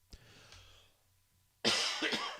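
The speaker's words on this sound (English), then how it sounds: "I don't know why I'm coughing here" A single sharp cough, then after a brief quiet a louder burst of two or three harsh coughs close to the microphone.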